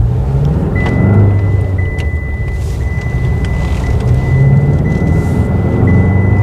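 A Tata Safari SUV rolls along with a steady, loud low rumble of engine and road noise from inside the cabin, and a faint high whine runs through it.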